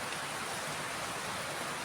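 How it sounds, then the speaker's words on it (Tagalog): Heavy rain falls in a steady, dense hiss that fills the scene without a break, with no voices. "Malakas pa rin ang ulan."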